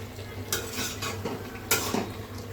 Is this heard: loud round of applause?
no